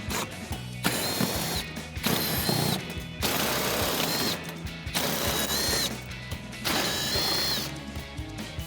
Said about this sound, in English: Your fender liner is held in by a slew of 8mm screws, so we're going to remove all those